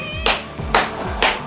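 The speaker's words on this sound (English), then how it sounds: "oh, she meows a lot" A cat meows three times in quick succession inside a foundry workshop, each call loud and close with bright rising harmonics over a low background hum.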